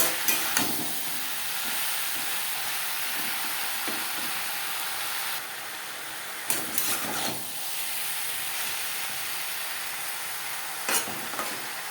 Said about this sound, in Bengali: লবণ হলুদ ডাঁটার সাথে বেশ ভালো করে মিক্স করে দেবো।